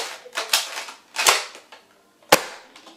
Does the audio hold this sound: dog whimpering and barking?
no